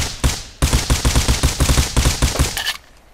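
Rapid automatic fire from an M4 rifle in the Rust video game, a loud sustained burst of closely spaced shots after a single opening shot, cutting off abruptly near the end.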